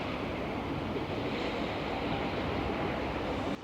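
Surf breaking steadily on Bridlington South Beach, a continuous loud wash of waves mixed with wind buffeting the microphone, with no voices.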